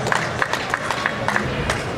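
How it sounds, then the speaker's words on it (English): A crowd at an IPF powerlifting meet claps steadily as a lifter steps out for his squat opener; rhythmic, fairly loud clapping fills the hall, with some background voices. "give a round of applause as he steps out here"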